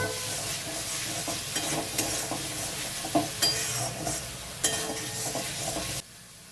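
Cabbage drops into spices frying in a pan, giving a loud continuous sizzle with several sharp spatula knocks and stirs against the metal, before the hiss cuts off abruptly near the end.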